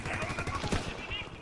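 Video game gunfire aimed at the escort around an advancing tank, rapid bursts of shots in a fast rhythm, with a voice talking over the shooting.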